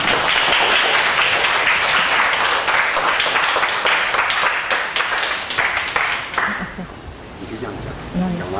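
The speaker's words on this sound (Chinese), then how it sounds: "让我们先热烈鼓掌欢迎我们的学姐" Audience applause in a university management accounting lecture hall, welcoming a returning alumna guest speaker; dense sustained clapping that thins out toward the end, with voices murmuring underneath.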